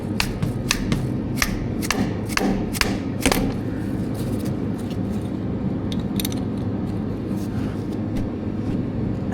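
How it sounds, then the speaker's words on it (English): A dead blow hammer taps on a threaded pipe in a series of sharp knocks, several in quick succession at first, then sparser, over a low mechanical rumble. "Give it a couple taps with the dead blow."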